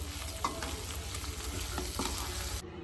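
Blue crab gravy simmers and sizzles in a pan under a constant close frying hiss, with a few soft stirring scrapes; no voices.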